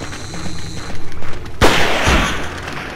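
Gunfire from an enemy in the survival horror game Forbidden Siren, a sudden loud blast midway followed by a rumbling burst of shots, over low background game ambience.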